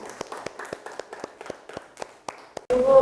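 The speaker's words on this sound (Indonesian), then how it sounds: "Tepuk tangan untuk Desi" A small physics class on global warming claps for a student, about a dozen sparse, separate hand claps in a loose rhythm, fairly quiet, before a sudden louder burst of noise cuts in at the end.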